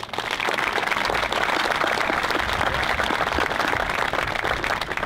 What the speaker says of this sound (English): Please join me in a round of applause for our middle school harmonizers and tonight's honorees